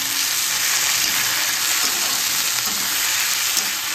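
Ginger, garlic and cumin paste frying in a pan, a loud, continuous close sizzle that holds steady, with light stirring underneath and no talk.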